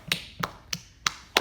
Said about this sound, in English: And try to snap.